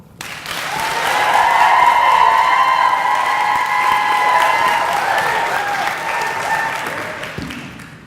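Sustained applause from a chapel audience welcoming a senior speaker, rising quickly and holding full and steady for several seconds before easing off slightly near the end.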